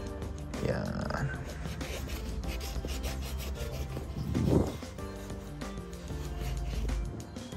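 Sneaker being wiped with a microfiber towel: close, soft rubbing strokes with a louder swipe midway, under a person talking.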